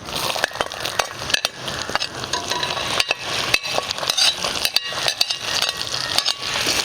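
Chopped garlic, green chillies and ginger frying in oil for beef pickle, a loud close crackling sizzle broken by frequent stirring scrapes and light clinks of a spoon against the pan.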